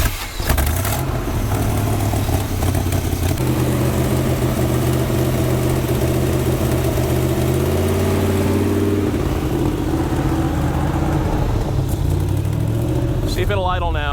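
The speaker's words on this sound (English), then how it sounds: "rap on it a few times and see if it'll idle" A 1976 Chevy C30 truck engine, left sitting for decades, revs in bursts then settles toward a rough idle, loud and close, with voices talking over it.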